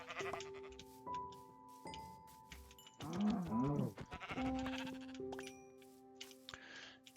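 Sheep in Minecraft bleat repeatedly, several wavering baa calls, the loudest in the middle, set against layered game tones and effects with no talking.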